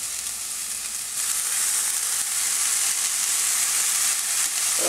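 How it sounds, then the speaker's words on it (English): Sweet potato curry sizzles in a hot pan with lemon squeezed over it, a steady bright crackling hiss heard close up and alone, growing slightly louder partway through. "listen to that sizzle"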